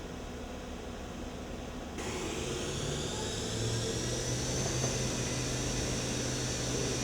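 A Techniks CNC machine mills aluminum with a 1/2 inch axial and 1/4 inch radial cut at 7,500 RPM, giving a steady, loud broadband whine and hiss that thickens after about two seconds and holds through to the end.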